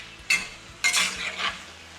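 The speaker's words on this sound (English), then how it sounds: "So let's stir it up. Throw our shrimp in." Shrimp being stirred in a hot pan for maque choux, heard as two loud scraping, sizzling strokes with a softer frying hiss between them and no talking.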